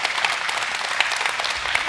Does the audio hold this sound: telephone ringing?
no